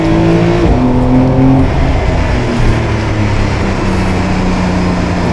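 Porsche 992 Carrera 4S Cabriolet accelerating in second gear through a gentle bend, a loud, close engine note climbing steadily in pitch, with a brief dip near the start before rising again.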